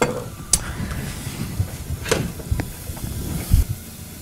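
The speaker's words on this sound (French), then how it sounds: "Dès que vous sentez que ça crépite, vous allez verser le champagne dedans, donc ça va un peu brûler l'alcool" Champagne poured into a pan of shallots sizzling in butter, giving a soft steady hiss and crackle with a few sharper pops, close and moderately quiet, no voices.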